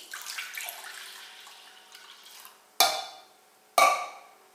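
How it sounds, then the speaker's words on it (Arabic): Milk is poured into a saucepan in a home kitchen, a soft liquid splash fading out, followed by two sharp clanks of metal cookware, no voices. "غادي ناخذ كاسرون نوضع فيه الحليب"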